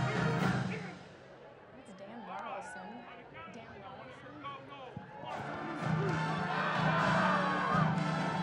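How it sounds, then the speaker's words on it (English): A crowd roars and cheers at a university homecoming parade, with a steady wash of many voices, shouts and whistles that swells louder in the second half. "The crowd goes wild, and Renegade wins the Seminole Cup."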